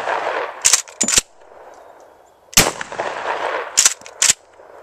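A Kel-Tec KSG shotgun fires 3-inch magnum 00 buckshot outdoors: five loud, sharp blasts come in two clusters of a pair and a triple, each with a short rumbling tail and quiet pauses between.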